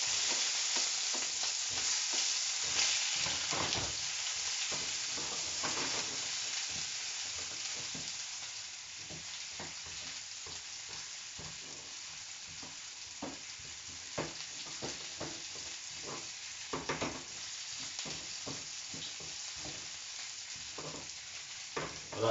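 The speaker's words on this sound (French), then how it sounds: "Là, je fais revenir les oignons." Onions sauté in a pan for shrimp ndolé, a soft continuous sizzle with scattered stirring clicks and scrapes, fading slightly over the long stretch, no voices.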